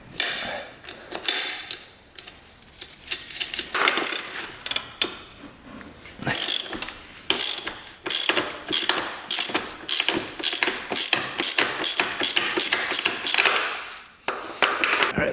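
Ratchet clicking in rapid bursts as it loosens the large nut on a 1989 Honda CR250 dirt bike, with short pauses between runs of sharp metallic ticks, close and fairly loud with no talk.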